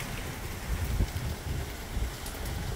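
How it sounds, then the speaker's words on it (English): Gusty wind from Hurricane Ian in Tampa in 2022 buffets the microphone outdoors as a low, rumbling roar that swells in uneven surges over a steady windy background, with no voices. "It's quite windy and rainy."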